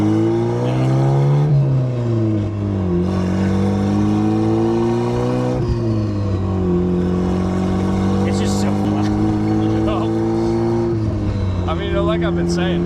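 A turbocharged, tuned Mazda Miata's loud exhaust drones from inside as it drives, its pitch rising and falling through gear changes, with people talking over it.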